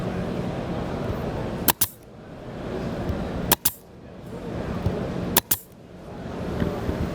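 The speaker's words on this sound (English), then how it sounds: "With a 21 gauge, we're going to just shoot a couple in here for reference." A Grex 21-gauge pin nailer fires three times, each a sharp, loud pneumatic snap spaced roughly two seconds apart, with steady air hiss and background noise between shots.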